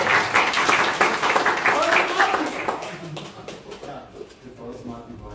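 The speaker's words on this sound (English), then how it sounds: "Applause to them." A tech talk audience claps briefly, a short patter of applause that dies down within a few seconds while people speak over it.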